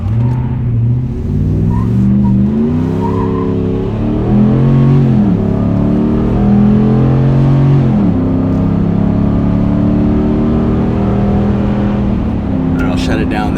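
A Ram 1500 pickup with a 5.7L HEMI V8 and an MBRP muffler at wide open throttle. The engine's loud, steady exhaust note climbs in pitch, drops briefly and climbs again as it pulls through the gears.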